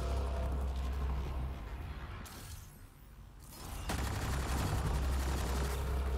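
Gunfire erupts in Mass Effect: Andromeda as sustained bursts of rapid weapon shots. A brief lull follows, then another long, loud stretch of shooting.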